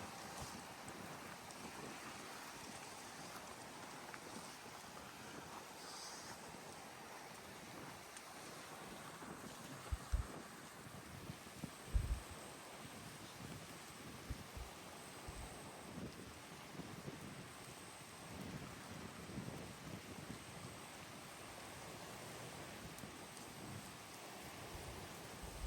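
Wind gusting over open water at a fishing spot on Arnasoy, a steady low rush of air buffeting the microphone throughout, with a few dull thumps partway through and no voices.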